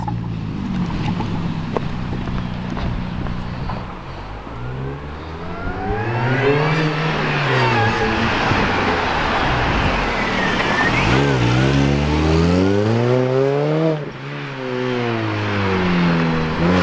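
A modified Mini Cooper S R53 engine revs hard and climbs repeatedly through the gears, loud and close, with rising and falling pitch sweeps and wind noise.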